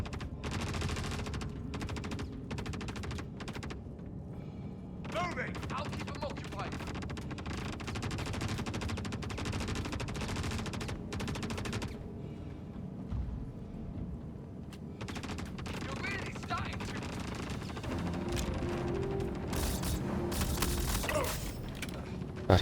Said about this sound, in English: Sounds like we've got some rather ferocious gunfire going on down there.